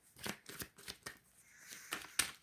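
Tarot cards shuffled and drawn during a reading: a few soft, close rustling swipes and flicks of the deck with short pauses between them, no voices.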